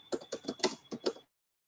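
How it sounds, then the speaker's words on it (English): Six quick keystrokes tap on a computer keyboard in an uneven rhythm, close and fairly quiet, followed by silence. "we can type like this"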